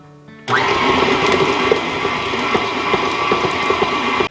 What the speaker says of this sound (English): I'm just going to use my cookie paddle with the little spatula edge here. And we're just going to beat these together until they're creamy.